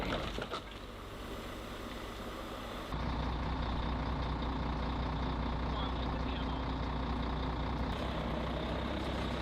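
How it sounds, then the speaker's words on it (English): A heavy tow truck at a road accident scene, its diesel engine idling loudly and steadily while intermittent reversing beeps sound over the rumble. "excavators and tow trucks were urgently deployed to clear the scene and remove the damaged"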